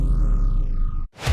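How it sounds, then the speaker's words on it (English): A cinematic downer: a loud, sustained tone sweeps downward, drops out abruptly, then a deep boom swells back in. "These downers sound like this."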